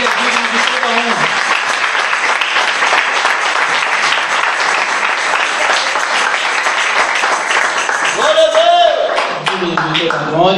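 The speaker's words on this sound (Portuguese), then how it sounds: "dê uma linda salva de palmas ao Senhor" Loud, continuous applause from a church congregation praising the Lord, a dense even wash of clapping throughout, with voices calling out over it near the end.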